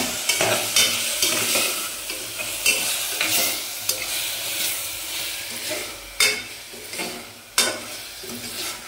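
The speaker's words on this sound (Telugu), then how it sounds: "ఇది బాగా ఫ్రై అవ్వాలండి." Country chicken curry fries in a pan, a continuous loud sizzle broken by repeated sharp spatula strokes and stirring scrapes.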